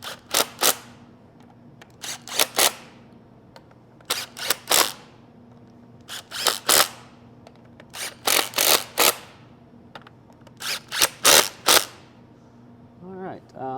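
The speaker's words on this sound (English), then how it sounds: "Now we're going to snug these up with the impact on low power level," An impact wrench on a low power setting snugs bolts on an Eaton Fuller truck transmission input shaft, firing short loud rattling bursts in pairs and small groups with pauses between them, close up.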